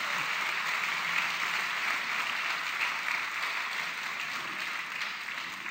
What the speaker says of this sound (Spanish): No sé a qué se debe el aplauso